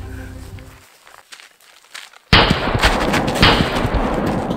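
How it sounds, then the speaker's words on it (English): Gunshots in an animated movie break out suddenly after a quiet stretch, with loud, rapid repeated bangs that continue as dense close gunfire. "Somebody's shooting!"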